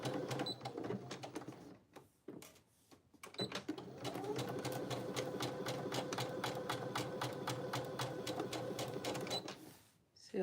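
A home sewing machine stitches a dart in fabric, starting with short bursts and then running in a fast, steady rattling drone. The sound is close and loud and fades out at the end, with no talking.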